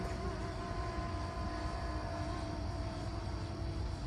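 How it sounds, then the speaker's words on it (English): A drone flies nearby, producing a steady broadband buzzing whir that holds at a constant moderate level throughout with no pauses. "that's a drone"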